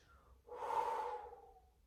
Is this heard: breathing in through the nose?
yes